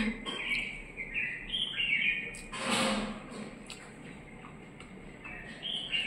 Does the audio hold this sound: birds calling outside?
yes